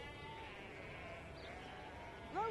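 A single sheep on a rural farm bleats once near the end, clear and fairly close, over a quiet, hissy outdoor background.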